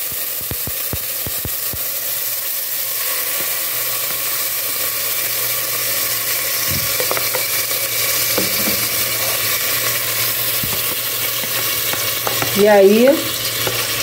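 Shrimp frying in olive oil in a pan, a steady soft sizzle running throughout with a few clinks of utensils and a brief louder scrape near the end; a short word is spoken once.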